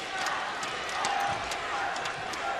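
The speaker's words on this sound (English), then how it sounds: "Yeah, crowd chanting Peter." A badminton crowd at the 2011 China Open quarter-final chants Peter's name, a steady, moderately loud roar of many voices filling the arena.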